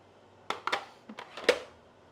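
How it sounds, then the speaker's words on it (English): Celery being chopped on a cutting board during home meal prep, a few quick knife strikes spaced over about a second, close and fairly quiet. "we're almost done with the celery chopping"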